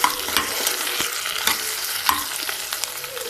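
Onion frying in oil for an okra and tomato curry, a steady crackling sizzle with faint stirring scrapes, continuous and close.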